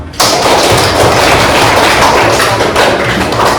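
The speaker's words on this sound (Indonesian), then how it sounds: "kita aplaus untuk kita semua" A classroom of children applauding together, a sudden burst of dense, loud clapping that starts abruptly and continues steadily, close by, with no talking over it.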